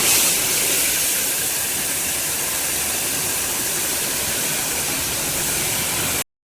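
Chana dal is tempered in hot oil with mustard seeds, cumin and asafoetida, producing a loud, continuous hissing sizzle that runs unbroken before cutting off abruptly.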